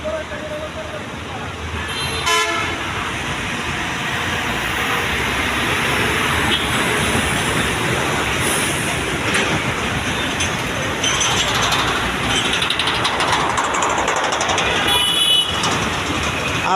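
Busy night street traffic in Dhaka: a constant roar of engines and road noise, with car horns tooting loudly near the start and again toward the end, and faint voices mixed into the din.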